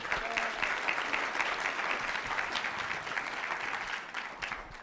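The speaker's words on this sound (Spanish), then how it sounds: "un aplauso a Vianney también." An audience at a Guadalajara press event gives a round of applause for a speaker: continuous, even clapping from a modest crowd, moderately quiet and a little distant, with faint murmuring underneath.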